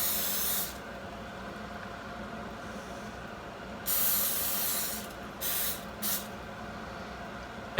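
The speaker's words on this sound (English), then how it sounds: "So you take your cooking spray and you just give it a good coating on the inside." Cooking spray coating the insides of silicone poaching cups, heard as several short hissing bursts of aerosol, close and separated by quiet pauses.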